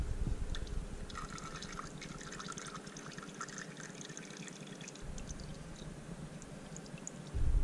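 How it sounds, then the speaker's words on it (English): Engine oil drains out of a Honda EU3000is generator as a faint, steady trickle and pour of liquid with scattered drips, heard close with no talking. "So I'm just going to let that sit there for a while, drain it completely out, then we'll fill it full of oil."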